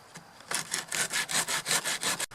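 A rust spot on a Buick body panel is roughed out by hand, a series of about eight quick rhythmic rasping strokes, close and fairly quiet, with no talking.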